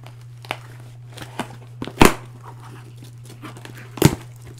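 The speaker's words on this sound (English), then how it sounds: "It comes well packaged in this initial box, which I am cutting open with scissors" A few sharp crinkling, tearing bursts of a cardboard box being cut open with scissors, spaced irregularly over a steady low electrical hum, with no speech.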